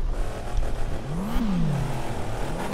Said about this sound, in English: I hear a loud engine.